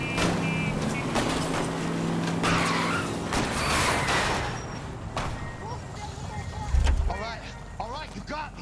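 In L.A. Noire, a fleeing car spins out after its tire is shot: engine roar and a long skidding tire screech under voices talking, ending with a low thump.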